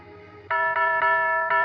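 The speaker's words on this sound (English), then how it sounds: "pushed the bell" A chiming doorbell rings out in a radio-drama scene on Christmas Eve, a bright multi-tone ding-dong repeating in quick strikes after a quiet moment.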